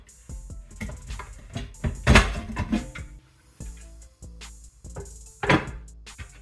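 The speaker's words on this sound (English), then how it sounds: "we can go ahead and put our corn in our pressure cooker" Corn goes into a pressure cooker for grain spawn, making a series of irregular thunks, clatters and knocks of metal and kernels, some louder bursts among quieter handling sounds, with no talk.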